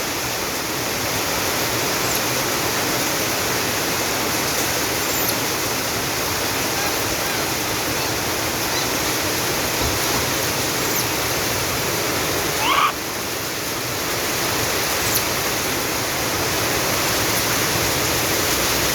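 Heavy rain pours steadily in Tocoa as a dense, constant rushing hiss with no pauses, loud and close, with only a brief faint disturbance midway.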